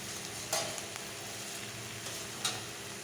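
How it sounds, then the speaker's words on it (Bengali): A large fish piece with potato and tomato cooks in a little oil, producing a faint, even sizzle with two light utensil clicks. "এই যে বড়ো মাছটা আলু দিয়ে টমেটো দিয়ে মাখা মাখা করে করছি।"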